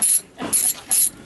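Quick ratcheting clicks of a wrench during field teardown and cleaning of a QuikSpray concrete pump come in three short bursts with pauses between them, close and fairly loud with no talking.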